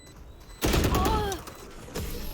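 Gunfire in a Valorant league match, a sharp close burst of shots opening a short rattling volley, followed by a second loud crack near the end, with no clear talk.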